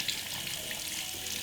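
Tap water runs from a sink faucet over a makeup brush, a steady close splashing hiss without speech.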